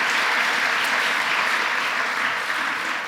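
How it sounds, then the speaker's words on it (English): Audience applause at a conference keynote, a dense, even wash of clapping from a large crowd, steady and loud throughout. "Can we do one more round of applause for each other?"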